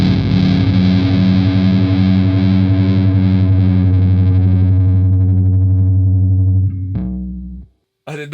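Heavily fuzzed electric guitar, its tone bent by a small magnet held against it, a thick buzzing sustained drone with a warbling pulse that holds for several seconds, then fades, cuts out and briefly returns.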